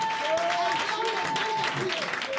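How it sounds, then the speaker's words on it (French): A church congregation in Adetikope, Togo claps steadily in praise, the applause continuous and fairly close beneath chanting voices. "Acclame Jésus-Christ de Nazareth"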